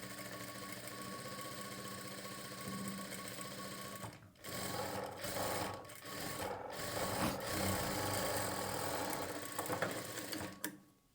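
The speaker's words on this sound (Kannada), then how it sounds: "ಆ ಹೊಲಿಗೆ ಮೇಲೇ ಮತ್ತೊಂದು ಹೊಲಿಗೆನ ಹಾಕ್ಕೊಳ್ಬೇಕು." A sewing machine runs steadily and close by while double-stitching a blouse sleeve and shoulder seam, its rapid mechanical whir continuing with brief changes in pace and a few clicks.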